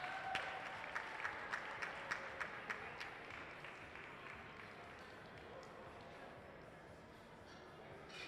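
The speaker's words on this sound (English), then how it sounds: "Let's give them a big round of applause." Applause from an audience at a visiting artist's glassblowing demonstration in a museum hot shop, starting as brisk rhythmic clapping that gradually thins and fades into a low, noisy room background.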